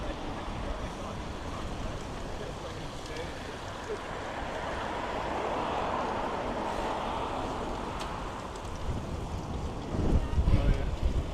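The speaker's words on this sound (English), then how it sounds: "Very windy here again." Strong wind buffets the microphone steadily during an outdoor group memorial ghost bike ride for a killed cyclist through Toronto city streets, with a crowd around; the gusting rumble swells louder near the end.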